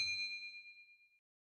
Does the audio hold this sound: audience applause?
no